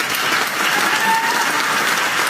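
An audience applauds steadily and loudly throughout, with dense, even clapping and no talk over it.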